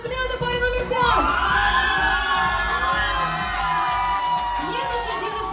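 A crowd at a New Year's corporate party cheers and whoops for dance pair number five, loud shouting and yelling with mixed voices, sustained throughout with some clapping underneath.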